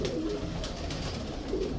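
A pigeon kept in a breeding pair gives low, soft, repeated coos up close against a constant background noise.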